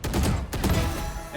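Rapid enemy gunfire in a video game deathmatch rattles in a loud, close, continuous burst of shots, briefly dipping midway before resuming, with faint talk.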